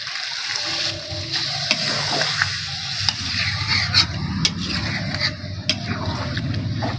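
Chicken and pumpkin stir-frying in a pan for a home-style curry: steady close sizzling with repeated scraping and stirring strokes throughout, no talk over it.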